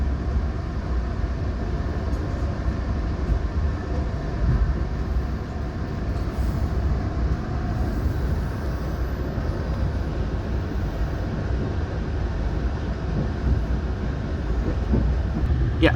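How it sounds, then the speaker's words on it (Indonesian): The Madiun Jaya train runs straight through Cikampek station without stopping, a loud, continuous low rumble and roar of rolling wheels that holds steady throughout. "Kereta api Madiun Jaya melintas langsung stasiun Cikampek"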